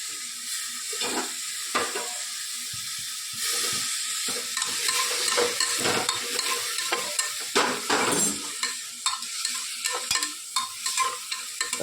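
Fenugreek leaves sautéing in a pan with mixed spices: a constant hissing sizzle overlaid with repeated scraping and stirring strokes of a spoon, close and loud, with no voices.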